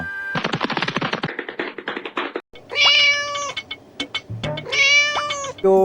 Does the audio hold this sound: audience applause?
no